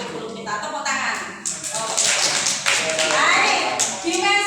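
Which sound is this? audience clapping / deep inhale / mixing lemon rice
audience clapping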